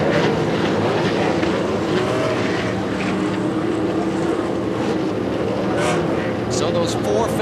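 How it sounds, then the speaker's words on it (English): Race car engines starting on the grid before the 2000 Rolex 24 Hours at Daytona, a loud continuous roar of many engines with crowd noise, filling the whole clip without a break. "Drivers, start your engines!"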